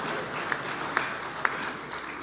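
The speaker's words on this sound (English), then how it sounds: "You can clap for that one." Faint audience applause at a university induction ceremony, a soft, diffuse patter of clapping in a hall with a few sharper individual claps standing out during a brief burst.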